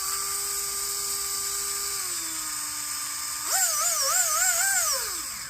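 A TP Power brushless motor, freshly cleaned with a gun cleaning kit, spins with a steady high whine that drops in pitch, then jumps up and wavers as it revs up and down before winding down, close and continuous with no talk.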